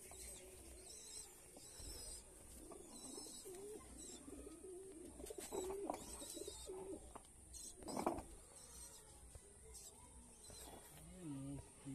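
Pigeons coo softly in a loft kept for flying, low repeated burbling calls under steady background noise while someone talks over them.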